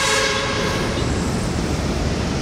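An MRT train in Mandaluyong City, Philippines, rumbles past close by, a steady heavy roar of wheels on rails with a faint high whine, no voices.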